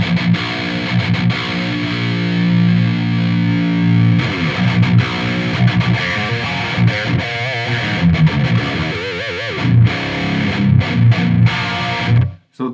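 Heavily distorted electric guitar recorded through a Royer 121 ribbon mic on a V30 speaker impulse response in front of a Boogie cabinet, loud sustained chugging chords and riffs, continuous and up close, ending abruptly.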